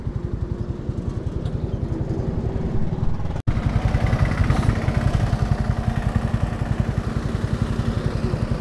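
A motorcycle engine runs steadily up close, its rapid even exhaust pulses continuing as the bike rolls slowly along a foggy road, with one brief break partway through.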